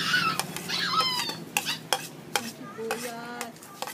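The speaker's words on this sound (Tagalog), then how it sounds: "Halo na po ang bawang." Garlic is stirred in a cooking pan, a utensil scraping and clinking against the metal in irregular strokes over a light sizzle, close and fairly quiet.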